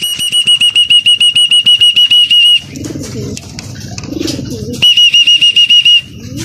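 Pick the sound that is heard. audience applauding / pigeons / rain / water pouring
pigeons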